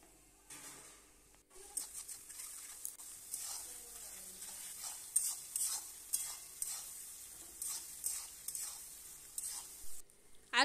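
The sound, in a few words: chopped onions frying and being stirred in a pan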